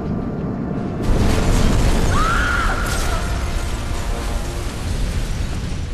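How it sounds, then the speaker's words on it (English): Oil truck explosion on a bridge surface in the video game Batman Arkham Origins: a heavy, rumbling blast bursts in after a second of quieter ambience and rolls on as a sustained roar, with a brief whistling tone riding over it. "Source of explosion was an oil truck on the bridge surface."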